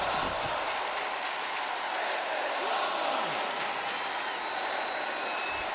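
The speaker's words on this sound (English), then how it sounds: "Listen to the crowd." Crowd noise from the WWE 2K20 wrestling game swells in a broad, steady roar of cheering, with a faint voice and a brief swooping tone passing underneath.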